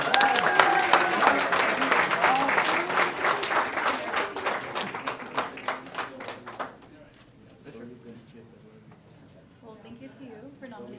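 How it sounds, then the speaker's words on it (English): Audience applause at a board of trustees meeting starts strong and close, thins out over several seconds and dies away, after which a person speaks. "Let's give her another round of applause."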